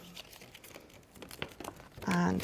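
A die-cut paper card being folded along its burnish lines gives quiet scattered crinkles and soft paper taps. A brief louder rustle comes at the end, along with a faint voice.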